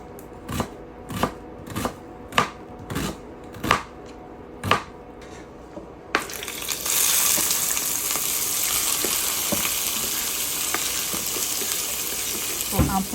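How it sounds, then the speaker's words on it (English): Several sharp knife chops on a board cutting onions and yellow bell pepper, then a sudden loud hiss as the vegetables hit hot oil and keep frying with steady crackling. "So I'm putting all of these ingredients in the hot oil."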